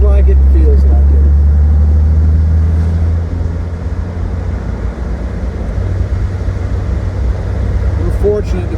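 A classic Jaguar XKE sports car with a recently rebuilt engine, its deep steady drone loud and close while driving on open roads, easing slightly midway, with someone talking over it.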